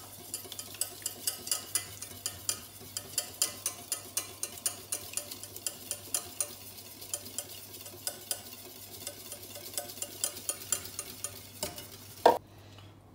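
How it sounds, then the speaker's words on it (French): A utensil stirs cream into a simmering cannelloni sauce in a pan with quick, steady strokes. Each one gives a close, rhythmic scrape and tap over a soft background sizzle, and a sharper knock comes near the end. "On peut ajouter la crème petit à petit en mélangeant"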